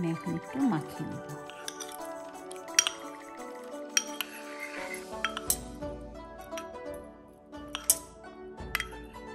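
Chicken being mixed by hand or spoon with oyster sauce and tomato ketchup for Chinese chili chicken, giving wet squishing and clinks of utensils against a bowl, close and moderately quiet, with a voice talking over it.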